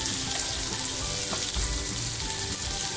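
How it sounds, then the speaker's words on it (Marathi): Pomfret pieces frying in a pan for a village-style fish curry, a dense continuous sizzle of hot oil with a faint watery, bubbling edge, close and steady with no talk. "बघा आपली मच्छी सुद्धा छान फ्राय होते"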